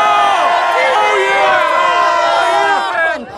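Dense close crowd cheering and whooping for Russell Wilson at Seahawks training camp, many overlapping shouts and high yells sustained loudly throughout, fading slightly at the end.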